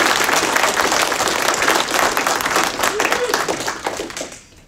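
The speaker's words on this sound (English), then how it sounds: "Big round of applause." An audience at a tournament awards ceremony gives a big round of applause, dense and sustained clapping that fades out toward the end.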